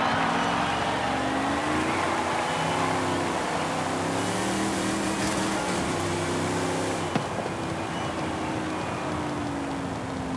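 A muscle car drives in Forza Horizon 5, its V8-style engine holding a steady, loud rumble with gear shifts and rises in revs, then settling into a constant drone with no voices.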